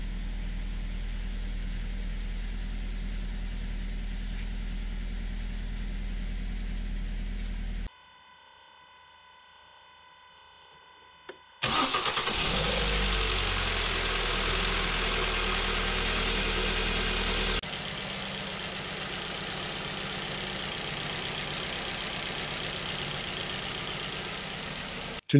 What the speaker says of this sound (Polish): Teraz posłuchajcie trochę silnika.